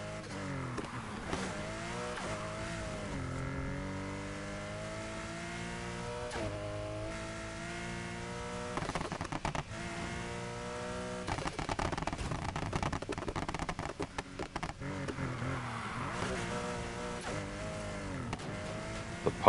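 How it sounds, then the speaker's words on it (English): In the Need for Speed Heat video game, a Mini fitted with a loud flat-six engine revs up and down in repeated rising pulls, with exhaust pops and crackles between shifts and some tire noise, continuing steadily throughout. "The popping noise I have from the exhaust is very loud on this car."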